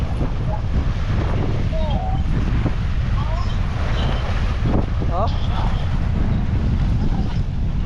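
Strong wind buffets the microphone at a seaside fishing area in Jeddah, roaring steadily over rough, choppy water. A voice briefly exclaims once.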